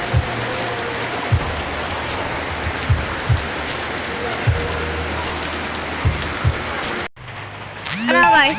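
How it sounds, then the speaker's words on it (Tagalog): Heavy rain pours steadily in a broad, hissing wash, with a few low thumps scattered through it, then cuts off abruptly near the end, when a voice speaks briefly. "ang lakas ng ulan dito sa amin eh"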